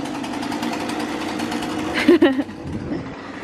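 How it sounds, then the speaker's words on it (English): A chainsaw's steady buzzing engine drone runs in the background under talking, with a few brief louder bursts near the end. "that noise in the background, that is Gav, by the way, using a chainsaw."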